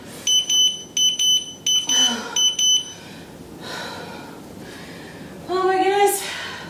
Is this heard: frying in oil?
no